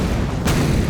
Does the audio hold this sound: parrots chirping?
no